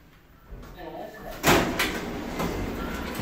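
Lift doors on a Schindler-modernised Otis passenger lift rated for 16 persons, 1250 kg, at a shopping mall, sliding with a sharp clunk midway that is followed by a lingering rumble, while a voice talks quietly beforehand.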